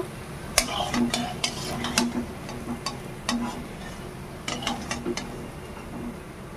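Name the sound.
frying pumpkin leaf and lentil fritters in oil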